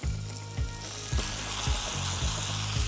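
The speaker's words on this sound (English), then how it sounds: "Get your pork skin side down." Pork sears skin side down in a hot pan with fresh bay leaves, a loud steady sizzle and crackle with several sharp pops spaced about half a second apart.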